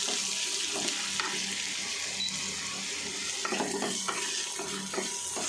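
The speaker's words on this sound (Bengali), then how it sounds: "একটু নেড়ে নিলাম সুন্দর মতো করে" Garlic paste and yam being stirred in a hot pan, a continuous sizzle with scraping spoon strokes and soft knocks against the metal at irregular intervals, close and fairly loud, no voices.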